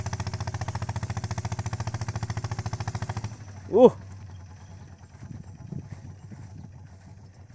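A racing farm tractor engine runs in a cassava field with a fast, steady chugging pulse for about three seconds, then cuts out. A man's brief exclamation and faint background sounds follow.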